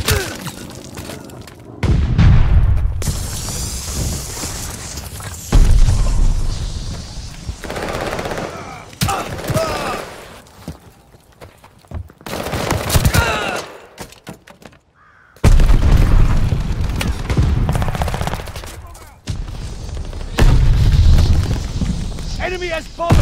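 Bombs exploding in a shooter video game, heavy booming blasts arriving in several loud bursts with low rumble and crackle, separated by quieter stretches, mixed with gunfire and game voices calling out alerts.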